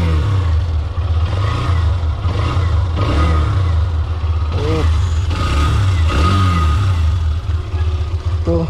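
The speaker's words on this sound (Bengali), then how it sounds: "তো চলো আজকে তোমাদের এর এক্সস্ট সাউন্ড শোনাই" A Hero Xtreme 125R, a 125cc sports motorcycle, idles and revs through its exhaust close by, with a steady low engine drone and several rising rev swells; a voice talks faintly underneath.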